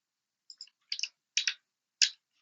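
Computer mouse clicks, four or five crisp close taps in quick pairs and singles in a quiet room, no voice.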